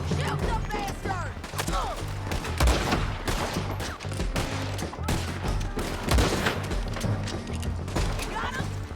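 Gunfire in the video game Red Dead Redemption 2, rapid overlapping shots and sharp cracks in a dense exchange with reverberant booms, loud and close, with voices shouting over the fight.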